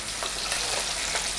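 Chili peppers fry in hot oil for a Padang-style chicken pop dish, giving a dense, steady sizzle and crackle that fills the short moment, close and even, with no voices.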